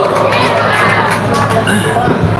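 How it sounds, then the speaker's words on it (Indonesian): A dense crowd cheers and shouts loudly at a religious gathering, a constant roar of many voices with children's shouts mixed in and little clear clapping. "Tepuk tangan."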